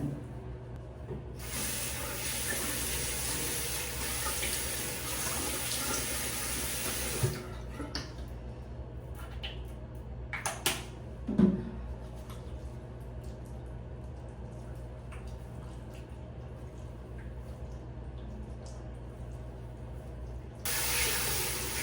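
Shower tap water runs steadily in a bathroom, a loud continuous rush that stops midway, leaving quiet handling sounds and a few clunks, then starts again near the end.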